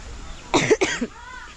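A close, rough double cough, two quick bursts in succession, followed by quiet room sound.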